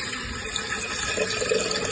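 Water left over from washing rice being poured out onto plants at home, a dense, continuous splashing pour heard close by and fairly loud, running steadily for a couple of seconds with no talking.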